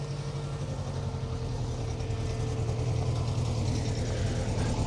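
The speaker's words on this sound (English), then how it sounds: "Noisy rally cars and a radio earpiece." Rally cars on a stage of the 2025 RAC Rally: a constant, dense mechanical engine drone with a low rumble, steady and fairly loud throughout with no pauses.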